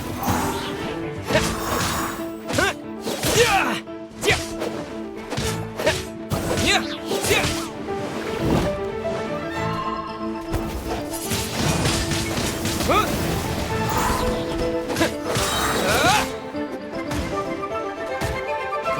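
Wind Blade attacks in Genshin Impact land as repeated whooshing slashes and crashing impacts, bursting irregularly over a busy game soundtrack.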